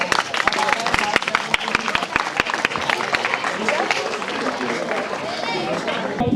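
Children at a South Chhindwara forest-range gathering clap hard and fast, sharp distinct claps standing out above a steady rush of crowd applause and background chatter.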